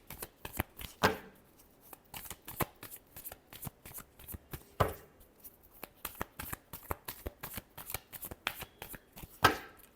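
Tarot cards are shuffled by hand in quick rustling riffles and crisp flicks, close and fairly quiet, repeated in uneven bursts with a few sharper slaps, with no talking.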